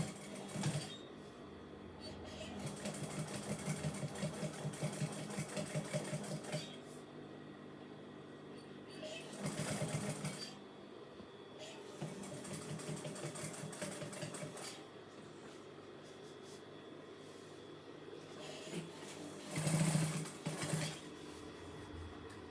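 A sewing machine stitches a fabric-covered cardboard box in several bursts of rapid, rattling mechanical whirring, close and steady, separated by short pauses and handling sounds.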